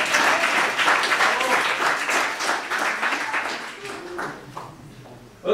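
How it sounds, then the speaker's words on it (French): Audience applause at a live French improv show, a burst of many hands clapping that gradually thins and fades, with a voice speaking in the room near the end. "on peut applaudir Lionel qui me donne enfin un mot d'une syllabe."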